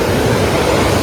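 Sea waves at Digha beach roar as a loud, steady wash of broadband surf noise, close and constant, with wind buffeting the microphone and no voices.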